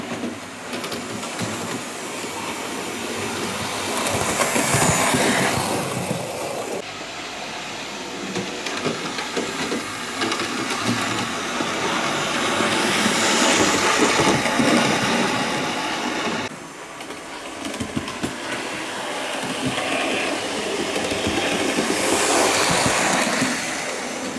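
An NSWGR C38 class model locomotive, number 3820 from Australian Railway Models, runs along its track with a continuous whirring motor and rolling rattle that swells and fades in waves as it passes near and away.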